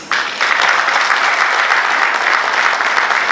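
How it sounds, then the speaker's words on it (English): Steady, loud applause from an audience at a workshop in Lagos, Nigeria, sustained clapping with no pauses, filling the whole stretch after a brief quieter start. "We have to give them a round of applause, please"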